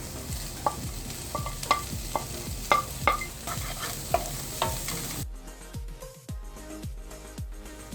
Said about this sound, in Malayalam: ഇനി നമുക്ക് ഇതിനകത്തോട്ട് ക്യാരറ്റും ബീൻസും കൂടെ ഇട്ട് കൊടുക്കാം.